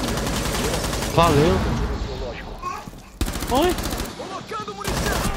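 Rapid automatic gunfire in the video game Rainbow Six, loud sustained bursts that cut out and resume, with players talking over the shooting.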